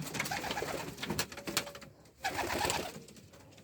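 Pigeons in a flying coop holding young birds coo softly at moderate distance, a low murmuring chorus with rustling and scattered clicks, and no voices.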